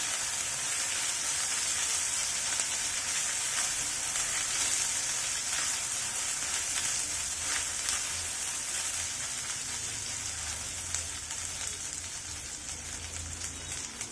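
Sliced onion frying with ginger-garlic paste in a pan for a Bengali masoor dal and long-bean dish gives a steady, close, even sizzle that runs unbroken throughout, with no talking.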